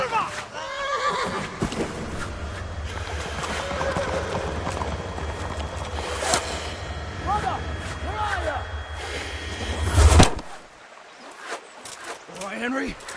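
Horse hooves clopping rhythmically in Kingdom Come: Deliverance beneath game music and dialogue, with a horse whinnying partway through before the sound cuts out.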